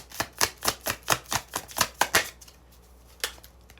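Tarot cards riffle-shuffled in a run of about ten quick, crisp, evenly spaced bursts, then a pause and one last soft slap of the deck.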